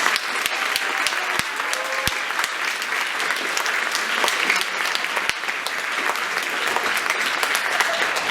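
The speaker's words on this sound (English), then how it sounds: "Let's give them one more round of applause." A concert audience applauds the student concert and symphonic bands, sustained dense clapping filling the hall at a steady loud level, with no voices standing out.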